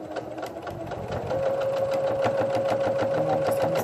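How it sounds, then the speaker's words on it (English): A sewing machine stitches quilt strips with a steady, close, rapid mechanical whir and clatter that settles into an even running hum after a few starting stitches. "I'm just going to start sewing down the right side of my strips."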